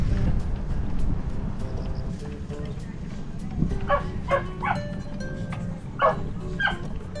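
A few sharp dog barks ring out over steady low background rumble and voices, spaced irregularly, moderately close, at Neungnae Station near the Bukhan River in Namyangju.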